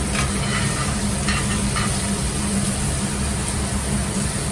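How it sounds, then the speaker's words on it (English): A freshly flipped New York strip steak sizzles in a hot cast iron pan, a steady, close, hissing fry with faint pops and crackles running throughout and no speech. "So I think I'm about ready to flip this steak."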